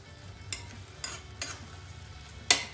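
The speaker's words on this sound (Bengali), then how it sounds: "এখন আমি এর মধ্যে চিংড়ি মাছটা দিয়ে দিচ্ছি, ভালো করে এর সাথে মিশিয়ে নেব," Prawns fry with pumpkin greens in a pan, a soft steady sizzle broken by four sharp scraping stirs, the last one loudest, with no voices.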